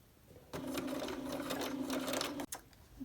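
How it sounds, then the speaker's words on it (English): A sewing machine runs a straight line of long gathering stitches across fabric: a steady, close mechanical whir lasting about two seconds, stopping abruptly, with a couple of soft clicks afterward. "I'm just going to sew straight across, and I'm sewing at a 1/4 inch"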